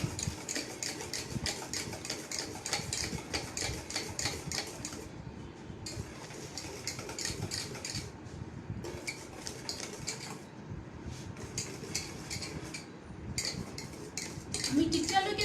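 A whisk clatters steadily against a bowl as sugar is beaten until it dissolves, a dense run of quick metallic clinks and scrapes with a few short pauses, close and moderately quiet.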